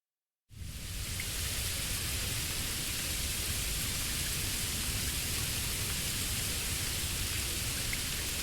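Steady rain falls in the video game Bleach Rebirth of Souls, a dense, even hiss of drops that starts suddenly after half a second and continues unbroken at moderate loudness.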